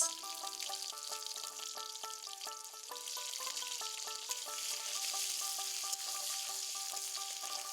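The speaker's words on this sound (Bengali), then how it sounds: "এবার আমি কড়াইতে তেল দিয়ে দিলাম আমি কড়াইতে একটা বড় সাইজের পেঁয়াজ দিয়ে দিলাম" Onion and a few green chillies sizzle in oil in a wok, a faint, even hiss sitting under louder melodic background music that plays throughout.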